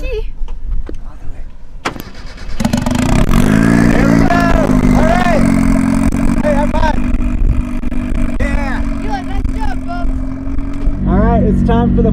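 A car engine cranks and catches after the key turns, then runs at a steady idle with a revving rise and fall, loud and close, ahead of a backyard race.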